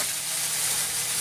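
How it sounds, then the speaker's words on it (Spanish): Nopal cactus paddles searing in olive oil in a frying pan, a steady, close, even sizzle with bright hiss throughout and no voices. "le echamos un poco de aceite en olivo a nuestro sartén y luego ponemos nuestros nopalitos a asar"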